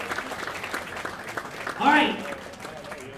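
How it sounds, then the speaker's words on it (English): Scattered clapping for youth bowlers at a bowling league awards ceremony, with a voice speaking briefly over the tail of the applause. "Please give them a nice round of applause and good luck at Junior Gold next month."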